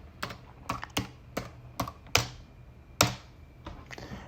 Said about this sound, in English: Let me type the password.